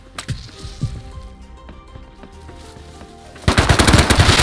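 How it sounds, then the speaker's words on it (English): Gunfire in the survival video game Rust: scattered sharp shots early on, then a loud, rapid automatic burst fills the final second, with no talking over it. "Can you hear the gunshots and shit, dude?"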